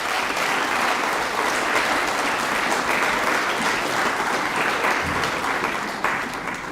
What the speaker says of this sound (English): just a round of applause for our New Zealand champions